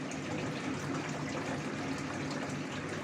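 Water tipped from a container into a fish tank holding glofish tetra fry, a continuous close gushing pour that runs evenly throughout with no voices.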